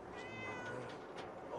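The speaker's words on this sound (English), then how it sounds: "There's a cat!" A cat in Fallout 4 gives a short meow, fairly faint against a low steady game ambience, with a second softer mew toward the end.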